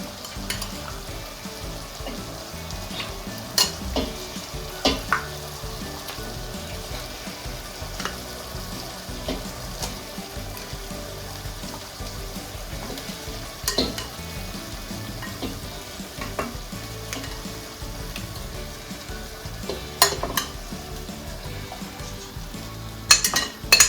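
Chicken pieces sizzle steadily in curry paste in a pan while a spoon stirs, with occasional sharp scrapes and clinks against the pot over the constant frying hiss.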